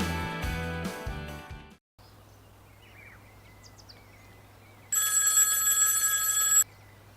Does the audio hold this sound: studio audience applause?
no